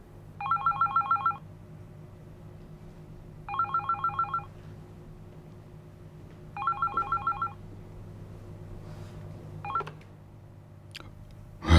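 A telephone rings in three evenly spaced electronic trilling bursts, then a brief fourth one is cut short, over a low background hum.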